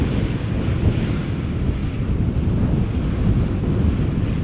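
Air Canada Dreamliner landing at Schiphol Airport in crosswind, a steady broad jet rumble heard at a distance and mixed with gusty wind buffeting the microphone.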